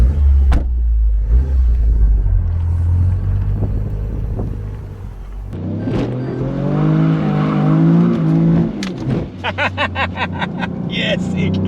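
A hot hatch, either an MK8 Golf R or a GR Yaris, idles low, then revs hard and accelerates with a rising engine note, with voices talking over it.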